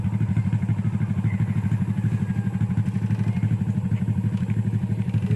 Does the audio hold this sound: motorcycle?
yes